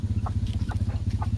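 Low, steady rhythmic clucking from chickens close by, with a few brief higher chirps scattered through, no talking.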